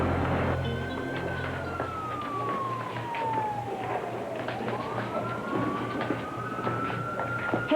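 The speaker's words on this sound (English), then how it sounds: "I think it's a fire truck" A fire truck siren wails in long, slow sweeps up and down, fairly faint and somewhat distant, over a steady low rumble of background noise.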